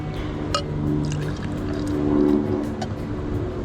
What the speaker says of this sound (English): I'll just pour into a glass.